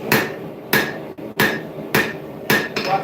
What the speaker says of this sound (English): Flat side of the hammer.